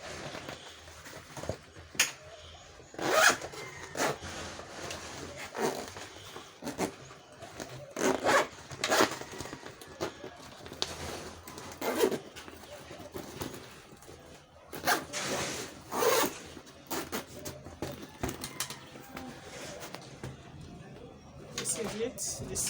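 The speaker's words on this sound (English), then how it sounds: "You zip it back again after all this." Zipper pulled closed on a handmade sewn fabric lunch bag, a series of short rasping zips repeating close to the microphone, with a voice talking between and over them.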